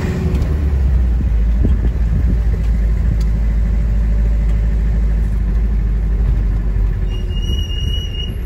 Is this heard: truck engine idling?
yes